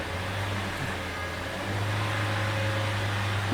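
A Nissan Juke engine with a hard-start, rich-running fault held at raised RPM, giving a steady, continuous low hum and drone that strengthens partway through, close and alone with no talk.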